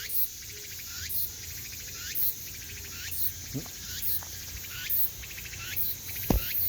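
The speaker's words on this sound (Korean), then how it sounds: "애매미 소리가" Insect chorus with rhythmic, repeated buzzing calls of a Meimuna opalifera cicada pulsing about every second, over faint background noise and a few soft knocks.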